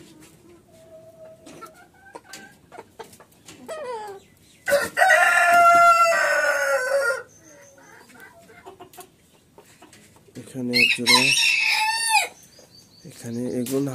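Fancy roosters crow loudly and close at a poultry farm in Joypurhat, two long cock-a-doodle-doo calls with clucking between them, while someone talks briefly.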